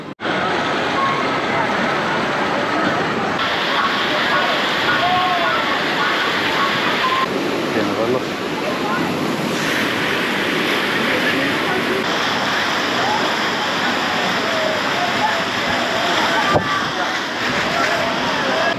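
Rushing, churning water on the Grand Canyon Rapids raft ride at PortAventura theme park, a loud continuous roar with splashing and sloshing, background crowd chatter and a short beeping tone.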